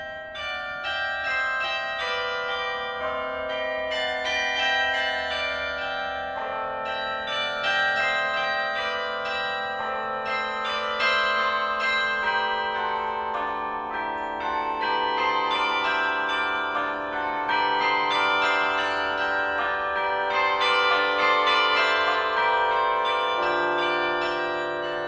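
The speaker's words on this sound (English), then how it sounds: "one really common technique is to play a bass bell and then have the musical phrase follow" Minor handbells ring out, a deep bass bell struck first and then a melodic phrase of bright, overlapping chimes that sustain and decay over about twenty-five seconds, with no voices.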